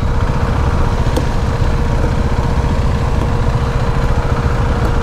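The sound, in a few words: KTM Duke 390 motorcycle riding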